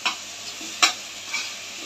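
Potatoes go into hot oil and get stirred, giving a faint steady sizzle broken by a few sharp scraping strokes of the spatula, close by and without talk.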